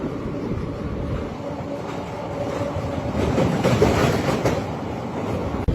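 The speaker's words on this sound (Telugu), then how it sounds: "Nagarsol నర్సిపూర్ super fast express." The Nagarsol–Narsapur superfast express train running, heard from a nearby train. A continuous loud rumble of wheels and carriages with faint clattering, steady throughout and swelling slightly toward the end.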